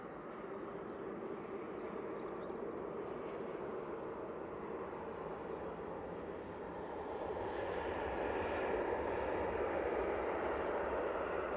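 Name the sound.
airliner landing at Manchester Airport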